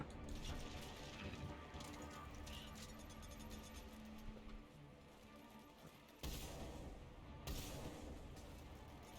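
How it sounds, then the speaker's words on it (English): Explosions in the video game Mass Effect 3 boom and crash repeatedly amid dense gunfire and combat noise, with a couple of sharper blasts near the end, all fairly quiet in the mix. "Just follow the explosions, you'll find it."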